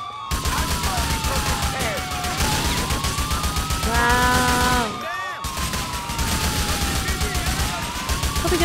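Dense, continuous gunfire in Grand Theft Auto IV, rapid overlapping shots filling the whole stretch, loud and close, with a brief lull near the middle while engine or siren tones sweep underneath.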